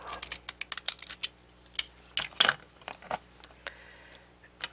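Scissors snip through a magazine page to cut out an image for a small decorated file-folder folio, a quick series of close, crisp cuts followed by a few slower separate snips and faint paper rustles, with no one talking.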